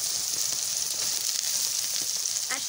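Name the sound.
soaked soy chunks sizzling in frying pan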